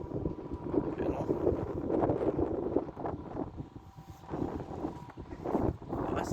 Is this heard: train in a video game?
no